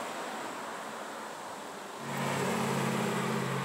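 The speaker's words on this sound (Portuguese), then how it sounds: "Aí sim, andando com o BMW conversível." A BMW convertible passes on a city avenue, a broad engine and road roar with wind hiss that swells as a deeper engine hum rises partway through and holds near and steady.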